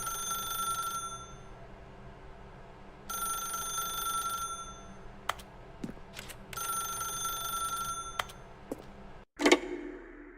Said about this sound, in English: I can't pick up the phone.